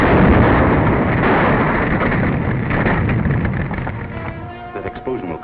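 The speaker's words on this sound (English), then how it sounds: "That explosion will cause an intense investigation." An explosion in a 1939 film serial: a loud, sustained explosive roar with rumbling blasts and crackling debris, fading slightly toward the end as voices faintly emerge underneath.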